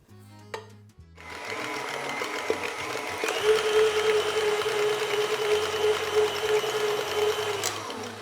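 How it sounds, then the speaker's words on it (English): A KitchenAid stand mixer runs at high speed whipping ricotta with sugar, a steady whirring motor drone that starts after a brief pause and holds continuously, close and fairly loud with no talking. "We're now going to whip the ricotta in a KitchenAid."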